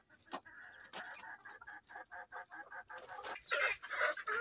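Crossbreed native chickens cluck and chatter in a yard, a run of repeated short clucks with a few sharper calls, fairly close and continuous, with no one talking.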